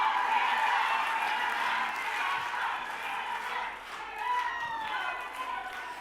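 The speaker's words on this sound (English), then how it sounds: "really cheer as loud as you can" A conference audience cheers and shouts together in a sustained, dense roar of many voices, loud and continuous, swelling slightly in the middle before easing.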